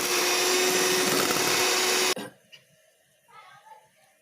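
An electric mixer beats eggs and sugar for a banana cake batter, a loud steady whir that runs for about two seconds and then stops abruptly, leaving a quiet room with faint scattered clatter.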